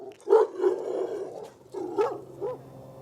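A dog near a house in Hollenbeck Park, Boyle Heights, Los Angeles, lets out several close, gruff barks and growling woofs in two clusters, with a low background hum.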